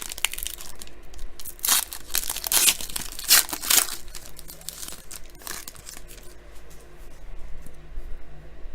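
Close, busy crinkling and tearing of a 2019 USA Baseball Stars and Stripes card pack foil wrapper, loud bursts of rustle that ease into quieter handling toward the end.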